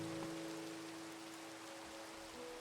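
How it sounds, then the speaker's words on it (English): Minecraft rain falls as a soft, steady hiss, faint and even, with a low tonal hum lying beneath it. "gotta love the rain"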